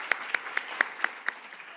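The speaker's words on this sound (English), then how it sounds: "Round of applause for you" A few sparse, evenly spaced hand claps from an audience at a climate and education forum, about six sharp slaps in under two seconds, close and fairly quiet.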